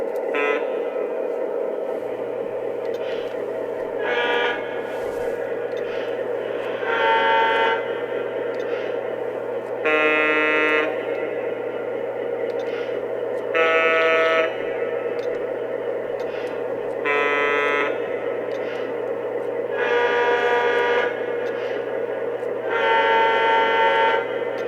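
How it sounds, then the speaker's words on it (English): Whistle of a Lionel Legacy GN NW2 model diesel switcher sounds in a series of short blasts, about eight separate toots spaced every few seconds over a steady engine hum, with no talking. "Checking out the whistle,"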